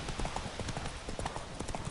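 Horse hooves of Roach in The Witcher 3 clip-clop in a steady trotting rhythm, close and fairly loud, with faint game voices in the background.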